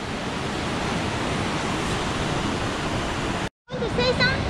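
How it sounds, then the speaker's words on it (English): Waterfall beside a trail at Geiranger, Norway, a loud, continuous broadband roar of rushing water that briefly cuts out and then returns with a voice over it. "This is the trail along the waterfall."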